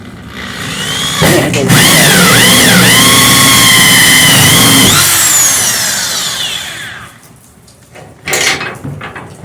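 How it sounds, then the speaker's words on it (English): A power drill whines loudly, its pitch climbing and dipping as it bores, then winds down and stops, followed by a brief short burst. "And we'll go ahead and start drilling."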